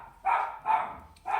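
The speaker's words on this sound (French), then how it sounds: "C'est un chien." A dog barks three times in quick succession, sharp mid-pitched barks spaced evenly and fairly close, with no other sound in between.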